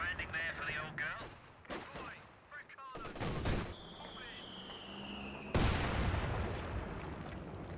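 Mortar shells land in the real-time strategy game Company of Heroes 2, a few sharp blasts and crackling gunfire bursts among quieter battlefield noise, with a rising whistle before a heavy impact near the end.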